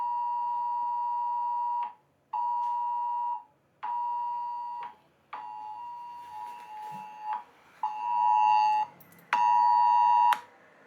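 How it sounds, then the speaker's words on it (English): A UK government severe emergency alert blares from a phone, a loud repeating alarm tone in long on-off bursts with brief gaps, alone with no talking. "I got a severe alert issued by the UK government"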